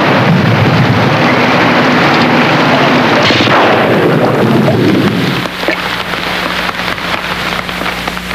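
A thunderstorm with a loud rolling thunder crash over heavy rain, the rumble fading into steady rainfall and a low continuous hum.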